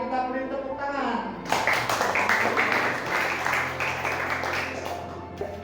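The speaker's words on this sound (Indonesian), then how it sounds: "Kita beri tepuk tangan." A school class claps together after being prompted by the teacher, a burst of many hands that starts abruptly after her spoken words and continues steadily to the end.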